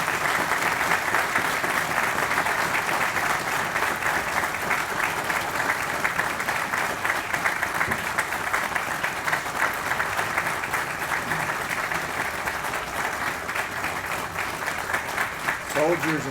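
Sustained, loud crowd applause at a Pearl Harbor Remembrance Day ceremony honoring World War II veterans, steady broadband clapping throughout with a few voices briefly rising near the end.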